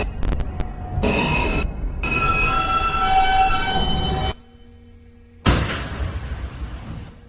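A Manhattan-bound N subway train on the Broadway Local runs loud and close, a steady rumbling roar with wheel squeal and screech, dropping briefly to a low hum before the noise surges back.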